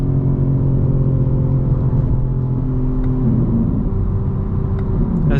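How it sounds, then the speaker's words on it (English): A 2025 BMW M4 Competition xDrive running on a highway merge with a steady loud low engine drone and rumble from inside the cabin, the pitch shifting slightly as the gears change, with no talking. "As you can tell, I'm upshifting to slow down the car, guys"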